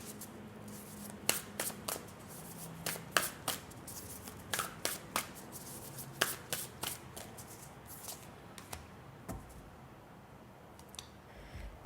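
A Rooted Woman oracle card deck being shuffled by hand, a run of crisp, quiet riffling slaps and clicks in irregular bursts, close up with no speech.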